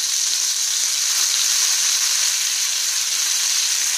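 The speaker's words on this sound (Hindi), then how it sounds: "अब हम पैन में 1 टेबलस्पून बटर डालेंगे" Butter, one tablespoon, melting in a hot pan on a gas stove, giving a steady, even sizzle and hiss that stays constant throughout with no voices.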